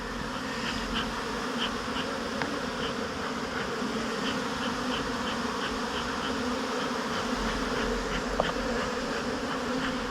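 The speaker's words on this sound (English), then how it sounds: "I've dumped all the bees in here." Honey bees are dumped into a hive box, producing a dense, continuous buzzing swarm that holds close and steady for the whole stretch, with no talking.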